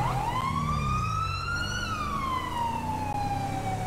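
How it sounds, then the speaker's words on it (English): A wailing police car siren in GTA 5 with the LSPDFR mod, one long rising and falling sweep that climbs, peaks and slides back down, steady and fairly loud, with a low engine rumble beneath and no talking. "let me know what you guys think about the new siren too"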